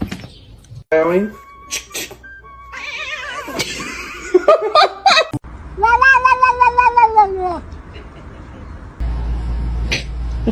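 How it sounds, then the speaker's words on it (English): A kitten meows in a rising, wavering cry, repeated several times up close and loud, with people talking, laughing and moving about around it. "Meowing."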